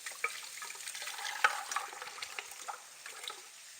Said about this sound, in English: So while that last little batch is frying up